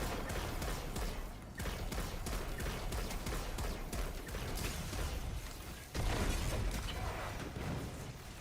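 Gunfire from snipers positioned up high in a video game, heard as dense crackling bursts and booms with mechanical clatter throughout a loud, busy battle mix, with a heavier blast near the end.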